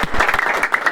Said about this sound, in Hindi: शानदार ताली होना चाहिए।